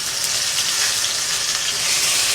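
Spice paste hitting hot oil with mustard seeds and cumin in a pan while making Mumbai-style vada pav filling, giving a steady, close, loud sizzle and crackle that holds without pause throughout.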